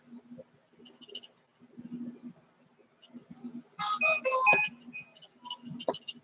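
A phone notification ringtone chirps in a short cluster of bright electronic tones, moderately loud, between faint mumbled speech and low room noise.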